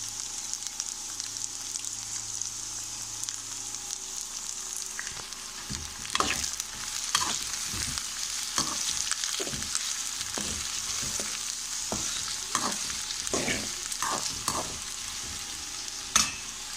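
Chopped onions sizzle steadily in a hot pan while a cooking spoon stirs and scrapes them in repeated bursts, close up with no talking.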